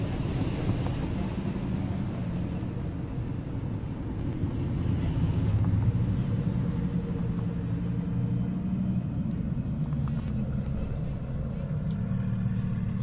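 A Nissan GT-R Nismo makes a drag racing pass on a half-mile airport strip, heard as a loud rumbling engine roar that fades and shifts over time, with voices talking over it.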